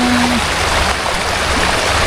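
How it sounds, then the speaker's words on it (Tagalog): Strong river current rushing loudly and steadily, a dense broadband wash of flowing water that fills the whole stretch with no voices. "Nakasan po natin ang boses natin kasi malakas po ang agos."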